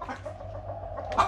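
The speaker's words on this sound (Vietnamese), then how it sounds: "Đây cũng một bạn gà mái đang nằm ấp nữa nè." A broody hen sitting on eggs in a coop gives soft, low clucks close by, with a brief louder cluck near the end.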